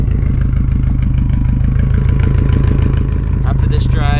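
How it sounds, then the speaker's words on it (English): A Subaru WRX STi with a Tomei straight-pipe exhaust idles close by, a loud, steady low rumble that lasts throughout with a light clatter layered on top. "I'm gonna let the car chill now that we're home."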